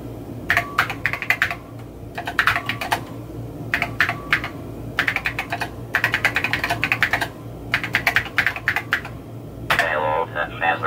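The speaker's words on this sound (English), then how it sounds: "Type a phrase, and I'll try to say it." Bursts of rapid keystrokes clatter on a computer keyboard used to type into an Apple II fitted with a ReactiveMicro Phasor sound card, with pauses between flurries and a low steady hum underneath.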